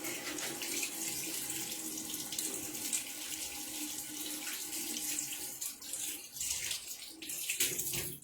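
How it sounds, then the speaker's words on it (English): Tap water runs steadily from a faucet into a sink during handwashing in a home kitchen, a continuous close splashing hiss with slight fluctuations and no talking. "Let me just wash my hands real quick."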